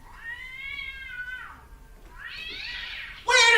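A cat gives two drawn-out, wavering meows, loud and close with a quiet gap between them, followed by a harsh, sudden noise burst at the end and no talking.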